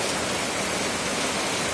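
Heavy rain pours down in a dense, constant hiss, loud and unbroken from start to finish.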